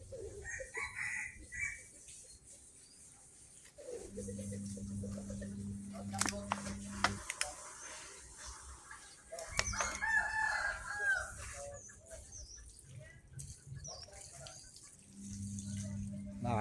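A four-month-old game rooster crows repeatedly in bursts, answering an older rooster, with clucking fowl and a voice nearby in between; the crows are fairly close and loud.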